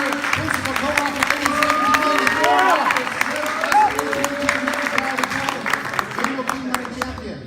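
Rally crowd applauding for Senator Scott Wiener: dense clapping with scattered cheers and whoops, voices and chatter mixed in throughout, sharp individual claps standing out toward the end.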